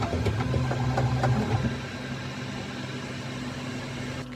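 A Qidi Max 4 3D printer is printing, its stepper motors whirring in short tonal bursts over a steady fan hum, then settling into a quieter continuous drone nearby.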